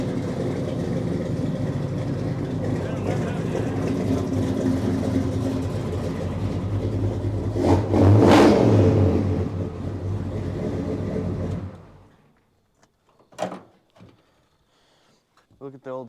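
An old car with very loud aftermarket mufflers idles with a steady, heavy rumble, swells into a brief rev, then the engine cuts off, leaving quiet with a few small knocks afterward.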